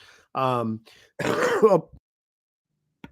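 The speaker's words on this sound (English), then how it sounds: "I had to cough there" A close throat-clearing cough comes in two short, rough bursts, followed by silence and a faint click.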